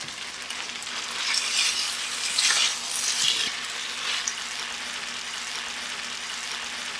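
Spring onion, cabbage and other vegetables stir-frying in a wok for chicken chow mein, a steady broad sizzle that swells with tossing in the middle and then settles into an even hiss, with no talking.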